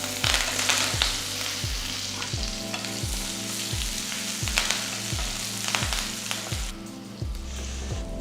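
Finely chopped small shallots and curry leaves sautéing in hot oil for a Madurai-style chutney, a loud continuous crackling sizzle with regular scraping stirs close by, no voices.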